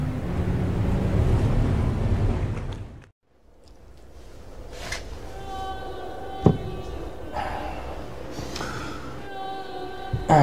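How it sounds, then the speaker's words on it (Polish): Wind gusting in an outdoor scene, heard as a broad rushing roar with surf-like surges that drops out briefly, then returns more softly alongside scattered tonal sounds and thumps. "Ten wiatr."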